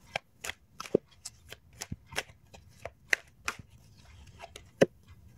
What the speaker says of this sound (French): je vais tirer une troisième carte